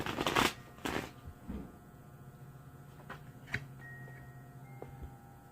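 Tarot cards shuffled by hand, two loud riffling bursts at the start followed by softer flicks and taps of cards, with a faint steady hum beneath and no voices.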